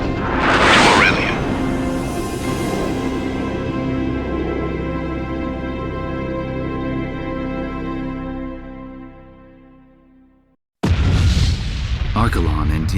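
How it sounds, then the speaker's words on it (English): In the Ace Combat X video game, the Fenrir superweapon is destroyed in heavy explosions: a loud blast followed by a long rumbling, ringing roar that slowly fades out, then a sudden burst of noise after a brief silence. "Archelon and Diego Navarro's beloved weapon Fenrir were ripped by explosions and engulfed in flames"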